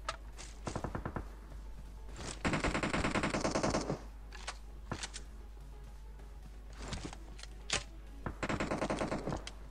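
Guns fire in an online video game. Loud, close bursts of rapid shots are separated by short pauses, with a few single shots in between.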